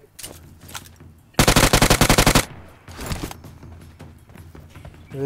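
Automatic gunfire in a PUBG Mobile match on the Livik map: one loud, close, rapid burst of shots lasting about a second, then a fainter follow-up and quieter game noise.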